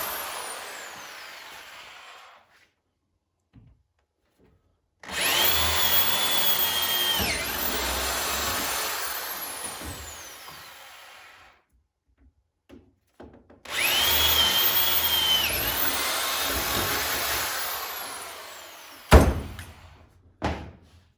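Cheap Walmart power drill boring holes for a Mustang rear spoiler, two long loud whining bursts separated by silence, each tailing off, then a sharp knock and short clatter at the end.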